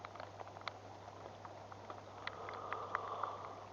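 Light rain begins falling around a fishing boat on a river at night, with a faint, soft patter of scattered drops over a low steady hum. The sound is distant and quiet.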